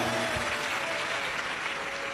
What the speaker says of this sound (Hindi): एक बार बेटी के लिए जोरदार ताली बजाओ।